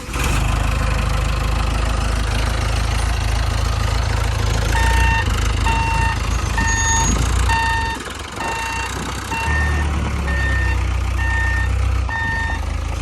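Farm loader fitted with forks reversing while pushing up heaps, its engine roaring loudly under a steady run of regular reversing beeps that pause briefly and resume, close by, with no talk.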